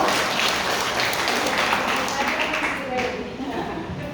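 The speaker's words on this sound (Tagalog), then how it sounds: "Malakas na palakpak sa Panginoon po." A church congregation at a Sunday worship service breaks into loud, sustained applause that fills the room as a dense, continuous roar of clapping, with voices mixed in.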